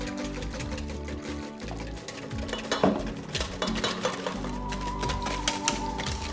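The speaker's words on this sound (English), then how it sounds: "So continue to add the oil and continuously whisk this as you do this." A whisk beating oil into egg for homemade mayonnaise, with quick rhythmic clicking and scraping against the bowl, fairly close and steady with brief pauses and a few louder clinks.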